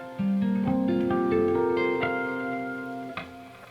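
Guitar harp harmonics arranged as a chord, bell-like plucked notes ringing out one after another and sustaining into a shimmering chord, close and clear with no talk.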